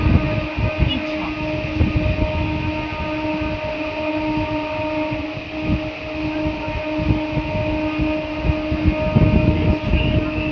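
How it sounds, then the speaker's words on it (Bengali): A Budge Budge to Naihati local train rolling into Ichhapur station, a loud continuous rumble of wheels and carriages with rhythmic clatter and a steady hum, heard from on board. "আর আমাদের ট্রেন এসে পৌঁছালো ইচ্ছাপুর স্টেশন।"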